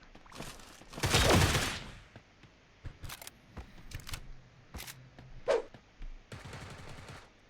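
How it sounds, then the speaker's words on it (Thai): Gunfire in the online shooter game Sausage Man comes as scattered sharp bursts and single cracks, some loud and close, others quick rattling volleys, separated by quieter gaps. "นี่เรามีเสียงปืนนะทุกคน"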